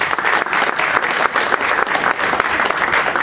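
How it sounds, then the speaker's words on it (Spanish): An audience at a university lecture event gives dense, sustained applause to welcome guests, with continuous clapping throughout and no talk. "Démosle fuertes palmas a nuestros invitados para darles la bienvenida."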